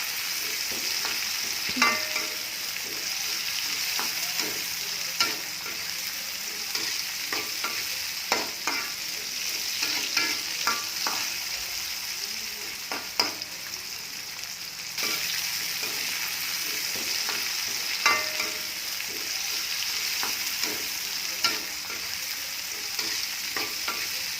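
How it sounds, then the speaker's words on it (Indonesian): Vegetables with tomato being stir-fried in a pan, steady frying sizzle broken by repeated scraping and clacking of a spatula stirring, close and fairly loud throughout with no talking. "Tumis aduk-aduk sampai tercampur, sampai sedikit layu"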